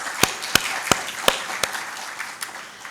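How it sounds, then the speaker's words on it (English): Applause greets a speaker at a policy research and entrepreneurship talk: soft crowd clapping with several sharp, evenly spaced claps up front, gradually thinning and fading toward the end. "a huge round of applause for him"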